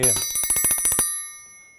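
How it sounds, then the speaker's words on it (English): A metal triangle percussion instrument is struck in a rapid tremolo roll of bright ringing hits, then left to ring out in a shimmering, fading sustain, close and loud. "We know the triangle as, that's all it does."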